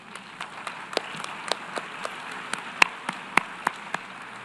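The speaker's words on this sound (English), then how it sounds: "maybe we have applause for all of the speakers again" Sparse clapping from a small number of delegates at a United Nations meeting, scattered individual claps in an irregular rhythm at moderate distance, with no talking.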